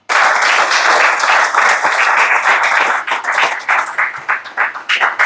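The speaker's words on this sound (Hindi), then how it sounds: "एक बार पुनः तालियां हो जाएं आपकी" Loud, close applause from a college audience at a constitution-themed event, dense at first and then breaking into more separate claps in the final seconds.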